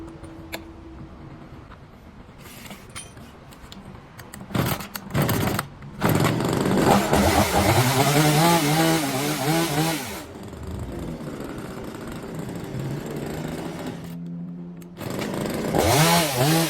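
Small Daewoo one-hand chainsaw engine running after a carburetor cleaning, starting with coughs and short bursts, then revving hard in rising and falling pulls, with pauses between runs, loud and close.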